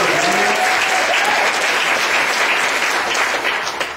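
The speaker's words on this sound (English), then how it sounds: "I give Him a hand clap of praise for His word" A church congregation claps in praise at a Sunday service, producing loud, dense, continuous clapping that fades slightly at the end.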